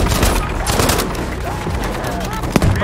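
Rapid bursts of gunfire crackle continuously in the video game Battlefield V, loud and close, with a player talking over the shooting.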